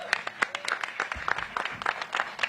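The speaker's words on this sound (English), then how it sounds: "So let's give them all a big round of applause." Applause from a small crowd at an outdoor kickoff event for a Black restaurant week in the DMV, scattered claps at moderate level with voices talking over them throughout.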